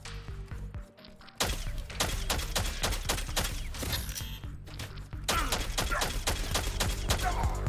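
Rapid bursts of gunfire from the video game CyberCorp crackle in dense, repeated volleys with thuds, starting after a brief lull and continuing loudly almost throughout, with a short gap midway.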